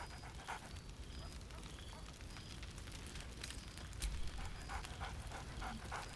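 A dog barks in Baldur's Gate 3, a few short barks rising over a steady, crackling game ambience with a low rumble.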